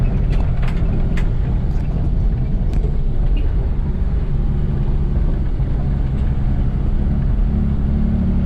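Continuous low engine drone from a Toyota FJ40 being driven in second gear on the road, steady and loud throughout with no talking.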